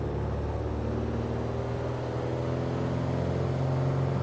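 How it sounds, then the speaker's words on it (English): A Piper Arrow III single-engine propeller plane in Microsoft Flight Simulator runs at full throttle with brakes held, giving a steady, loud, droning engine roar that holds constant throughout. "The engine sounds are really good in this airplane."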